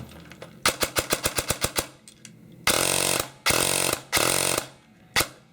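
An airsoft gun fitted with a Matrix Sonic 5000 motor fires close and loud, first a quick string of separate shots, then three long full-auto bursts and a final short one.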